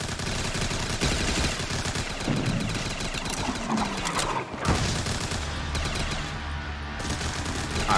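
Continuous, dense gunfire and cannon blasts rattle on in a pirate island video game, loud and sustained with overlapping bursts and a brief dip midway, with no one talking.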